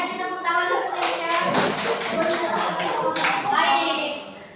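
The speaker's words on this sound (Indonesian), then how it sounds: "kasih tepuk tangan ya" Students in a classroom clap for their classmates, producing a burst of sharp, rapid hand claps mixed with light tapping and thuds, with children's voices and chatter running underneath.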